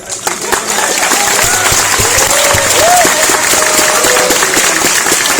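Crowd applause from a large audience at a live movie talk event, loud and sustained throughout, with scattered whoops and cheers rising above the clapping.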